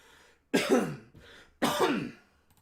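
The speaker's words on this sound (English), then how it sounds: "I've got this cough that's been just not wanting to get out of my throat" Two harsh, throaty coughs close to the microphone, about a second apart, with a brief quiet rasp between them.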